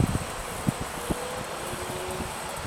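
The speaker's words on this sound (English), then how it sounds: "A little windy out here." Steady outdoor wind buffets the microphone beside a 1984 Sunfish sailboat on a trailer, a constant broadband rush with a few soft low thumps and faint rustling, no talk.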